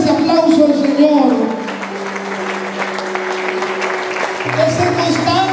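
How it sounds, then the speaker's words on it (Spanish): Congregation applause at a church service rises as a loud, dense patter of many hands, mixed with sustained music tones and voices running underneath throughout. "Dale fuerte ese aplauso al Señor."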